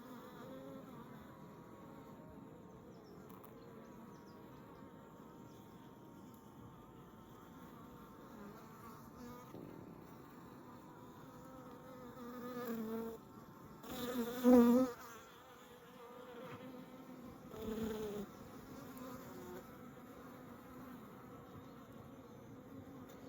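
Bees buzz steadily inside an opened beehive during an inspection, a dense continuous drone with a few louder close passes of individual bees near the middle and later on.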